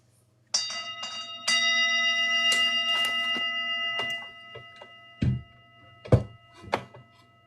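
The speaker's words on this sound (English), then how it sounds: "I'm going to give a little chime out." A small bell chimes in a quiet public place: one sustained ringing tone that hangs for several seconds, then a few short, sharper strikes and knocks follow at irregular intervals.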